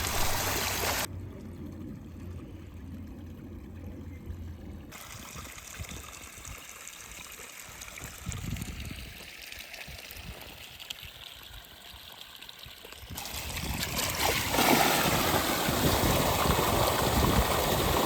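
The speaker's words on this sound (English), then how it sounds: "sure enough, water moving in the right direction" Water flows and gurgles steadily through an irrigation channel in a pasture, shifting in texture as the sound changes, then swells into a louder rushing stream near the end.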